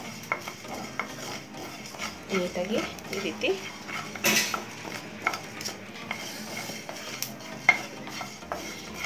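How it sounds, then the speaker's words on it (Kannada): Coriander seeds, pepper and cumin dry frying in a pan, heard as soft scraping stirs and light clinks of a spatula against the pan under a speaking voice. "ಇಷ್ಟನ್ನು ಮೊದಲಿಗೆ ನೀಟಾಗಿ ಫ್ರೈ ಮಾಡ್ಕೊಳ್ಳೋಣ"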